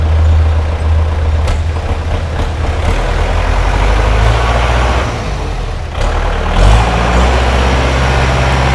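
The diesel engine of a used 2011 Kubota L47 tractor idles loud and close in a continuous rumble, and its pitch shifts briefly as the revs change partway through.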